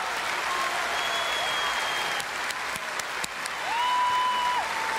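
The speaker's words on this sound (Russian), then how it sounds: "Аплодисменты." A concert audience applauds a singer, with steady dense clapping, a few louder sharp claps, and sustained tones like whistling or a voice gliding above the noise.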